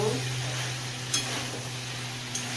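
Kochu loti (taro stolons) with shrimp stirred in a pan on a low gas flame, a soft steady sizzle with faint scraping stirs and a couple of brief clinks, close and alone with no talk.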